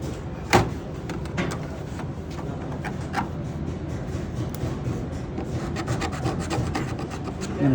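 A marking gauge scratches a half-inch line into wood, producing a steady dry rasping scrape with a sharp tap near the start, close and continuous throughout.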